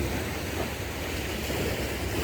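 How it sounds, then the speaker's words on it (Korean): Steady waves wash and break against coastal rocks at a seaside fishing spot near Pohang, a continuous loud roar of surf with wind and no voices. "다른 데가 파도는 안 치는데 여기는 파도가 친다"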